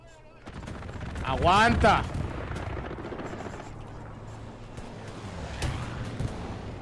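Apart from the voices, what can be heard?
gunfire in a simulation video game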